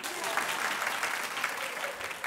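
Applause from a studio audience fills the moment, continuous and fairly loud, without any speech on top.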